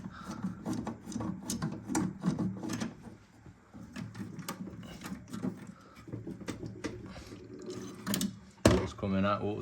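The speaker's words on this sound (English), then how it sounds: "Water's coming out, water's coming out." Water gurgling and trickling out of a Vaillant EcoTec boiler under steady talking, with clicks and clatter throughout and a louder knock near the end.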